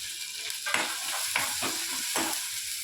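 Capsicum stir-fried in a pan, a steady close sizzle of frying with repeated scraping strokes of a spatula at an uneven rhythm, no voices.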